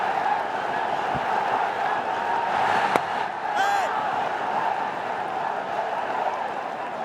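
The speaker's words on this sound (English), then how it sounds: "Let's listen to the crowd. It's buzzing." Crowd noise fills a cricket stadium during a Bangladesh vs Pakistan T20 match, a steady buzzing roar with scattered whoops and a sharp thump or clap partway through.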